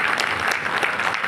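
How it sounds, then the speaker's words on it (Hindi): A large crowd at a community gathering in Lucknow claps loudly to welcome a government minister, a thick, continuous roar of applause with scattered sharper claps standing out, close and energetic from start to finish. "माननीय मंत्री जी का बहुत जोरदार तालियों के साथ स्वागत करें"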